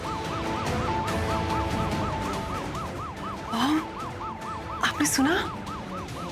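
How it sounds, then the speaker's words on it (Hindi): A police siren wails in a steady rising-and-falling cycle at moderate distance, running under the scene while a few brief voices and movement noises cut in near the end. "सायरन की आवाज। पुलिस आ गई मॉम।"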